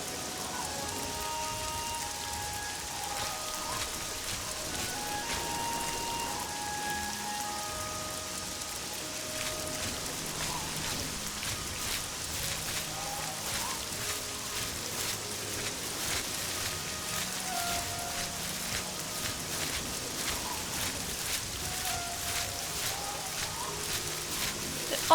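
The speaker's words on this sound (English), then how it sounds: "What a nasty rain." Rain falls steadily in Oblivion, a soft continuous patter of drops on surfaces with faint distant tones under it, lasting throughout.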